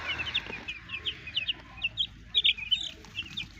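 Five-day-old white chicks peep in quick, high, repeated chirps while eating in a home-raised brood, fairly faint and close with soft rustling beneath and no voices.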